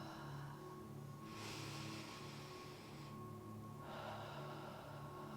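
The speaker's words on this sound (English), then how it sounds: "Take 2 deep breaths." Two slow, deep breaths during a gentle yoga cool-down twist, each a soft airy inhale and exhale, close and quiet over a faint steady room hum.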